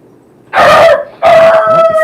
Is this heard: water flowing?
no